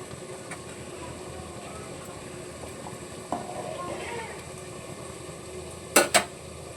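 Chicken and tomato fry in a pan with a soft steady sizzle, broken by a few utensil scrapes and clinks against the pan, including two sharp knocks near the end.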